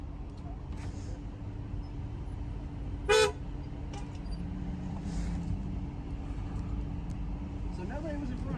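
A single short car horn toot rings out in road traffic, standing out against a low rumble of vehicles and idling engines, with a faint voice in the background.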